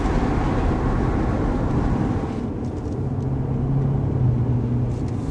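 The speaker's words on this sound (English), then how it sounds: "Windows up, increase drone." A BMW N55 turbocharged inline-six with a VRSF catted downpipe produces a continuous low exhaust drone and road rumble, heard inside the cabin with the windows up, steady and moderately loud throughout.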